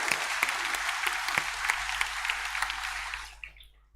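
An awards-night audience claps together indoors, with a steady dense patter of hands and scattered louder claps that fade out and stop near the end.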